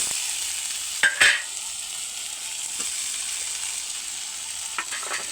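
Winter vegetables sizzle steadily in an oily, spiced masala in a pan. A few sharp scraping knocks of stirring rise above the constant frying hiss.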